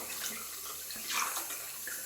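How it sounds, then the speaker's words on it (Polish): Cold tap water runs over a shaving bowl as it is rinsed, a close, continuous hiss and splash of flowing water with a brief louder gush midway. "Spłukuję w zimnej wodzie, nie włączyłem ciepłej, nie puściłem ciepłej wody."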